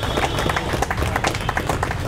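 An audience claps vigorously to welcome guests on stage at a carrom-related award gathering, a dense, continuous patter of many hands close by with no voices.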